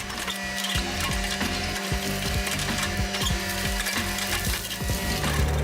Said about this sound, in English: these excavators work steadily to complete the job of clearing 3/4 of an acre to create space for a food forest.